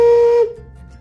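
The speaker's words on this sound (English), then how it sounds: "like these clay whistles" A clay whistle made in a school art class is blown once in a clear, loud, steady tone for about half a second, then cuts off into quiet.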